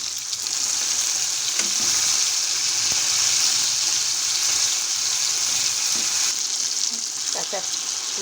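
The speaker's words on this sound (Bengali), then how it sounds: "এখন দিয়ে দিচ্ছি আগে টমেটো এবারে দিয়ে দিচ্ছি গোটা গরম মশলা" Tomato and whole garam masala fry in hot oil with cumin seeds, giving a loud, steady sizzle that runs throughout, broken only by a few faint clinks of stirring.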